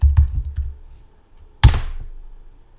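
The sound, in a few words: typing the make command on a computer keyboard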